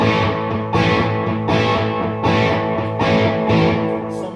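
A distorted electric guitar plays a chugging rhythm of repeated chords, loud and gritty, with short pauses between strummed phrases.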